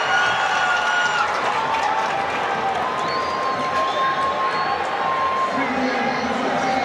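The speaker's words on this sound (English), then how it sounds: "the crowd is excited. They're cheering for Senegal." A large stadium crowd roars and cheers continuously for Senegal during a men's 4x400m relay at the World Athletics Relays in Gaborone, a dense, steady wall of voices with whistles and shouts rising above it throughout.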